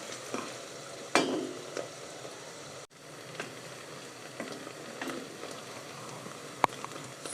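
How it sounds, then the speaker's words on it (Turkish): Steady sizzling and crackling of onions frying in hot oil, with occasional stirring clinks and scrapes, close up and fairly quiet. "Güzelce kuru soğanımı kavuruyorum."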